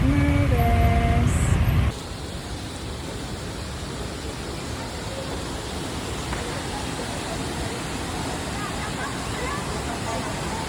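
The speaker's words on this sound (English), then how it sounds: "We're leaving the first waterfall." Waterfall roar on a volcano hike, a constant broad rushing hiss heard up close after a brief louder burst at the start, steady and unbroken throughout.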